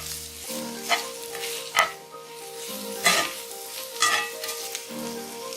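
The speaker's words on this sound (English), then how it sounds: "Now roast the onion until it becomes soft and translucent." Finely chopped onion sizzles and fries in a pan for dhaba-style bhindi do pyaza, a steady crackle broken by several louder bursts as it is stirred, with faint clinks of a utensil.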